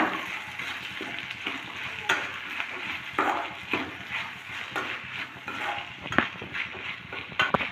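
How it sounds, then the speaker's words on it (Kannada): Potatoes frying in oil in a pan, a moderate sizzle broken by irregular stirring clatter and scraping, close and without speech. "ಈಗ ಆಲೂಗಡ್ಡೆನೂ ಸ್ವಲ್ಪ ಆಯಿಲಲ್ಲಿ ಚೆನ್ನಾಗಿ ಫ್ರೈ ಮಾಡ್ಕೊಳ್ಳೋಣ"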